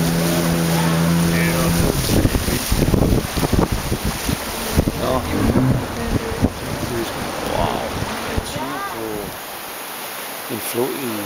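A 12-man canoe under outboard motor power travels up a river toward Angel Falls, with steady engine drone and rushing wind noise across the whole stretch, and a few short spoken words and an exclamation of amazement.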